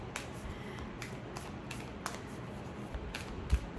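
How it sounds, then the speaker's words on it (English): A deck of oracle cards is shuffled by hand, giving soft papery riffles and light taps in an irregular rhythm, close and quiet with no talk. "I'll do all the shuffling, get all the cards."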